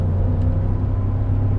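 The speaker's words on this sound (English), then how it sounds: "there's nothing like the sound of a V8, man" A 2019 Ford F-150 Lariat pickup with the 5.0 Coyote V8 produces a deep, steady engine rumble heard up close, droning evenly without a clear rise or fall in revs.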